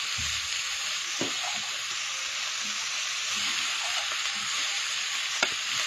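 Mushrooms frying in a pan, a steady close sizzle running throughout with occasional light knocks of stirring.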